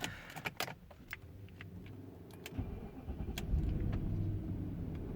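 Keys jingle near a Range Rover L322 before its engine cranks and catches, settling into a low, slightly sputtery idle that rumbles steadily at moderate level with faint clicks over it.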